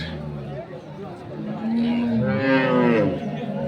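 A dairy cow at a rural cattle market in Dinajpur moos loudly and close by in a long drawn-out low call, with market chatter and crowd noise around it.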